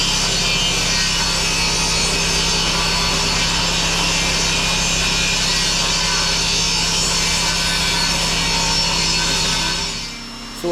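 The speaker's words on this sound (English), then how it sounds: "I need to cut a couple more face frame members so I can get those installed" A saw cuts wooden face frame members for a base cabinet in a remote Alaska workshop, a loud, steady, close grinding rasp that runs without a break and cuts off just before the end.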